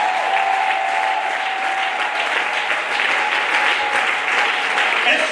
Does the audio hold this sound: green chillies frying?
no